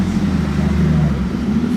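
A V12 supercar engine rumbles steadily at close range on a Monaco street, a deep continuous drone with no speech.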